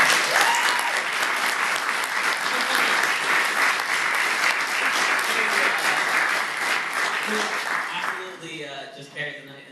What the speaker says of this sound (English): Can we get one like the loudest round of applause ever for